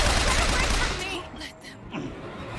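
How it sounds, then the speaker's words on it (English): Machine gun fire in the video game Bioshock Infinite. A loud, dense burst is heard up close, then it fades and breaks into a few scattered shots while a voice speaks. "I have a machine gun."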